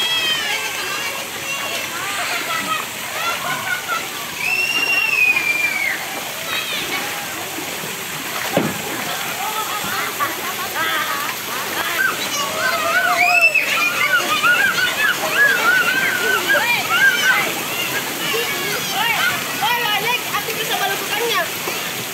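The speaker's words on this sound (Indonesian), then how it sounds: "berenang di cipratan air itu" Water splashes and sloshes steadily in a children's pool at a Jeneponto waterpark, a continuous busy wash with children's voices and shouts mixed in throughout.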